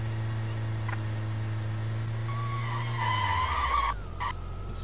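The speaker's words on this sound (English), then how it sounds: "Slammed on his brakes then." In the game AutoBahn Police Simulator, a steady car engine drone gives way to a rising, screeching tire skid as the car brakes hard, then the noise cuts out abruptly.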